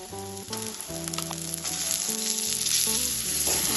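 Minced chicken hits oil already simmering with spice paste and sizzles loudly, the frying swelling and growing denser over a few seconds while background music plays beneath it.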